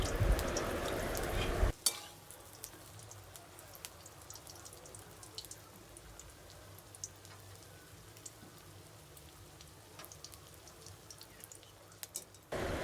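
Eggplant fritters (beguni) fry in a wok of oil on a rainy day, a soft continuous crackle after a brief louder burst at the start, with scattered light pops and no voices.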